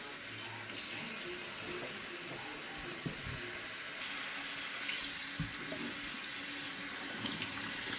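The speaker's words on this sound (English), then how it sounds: "Running the cold water over it." Cold water pours steadily from a tap over a cheap synthetic wig dyed blue, a continuous hissing rush with occasional soft splashes and knocks, no talking.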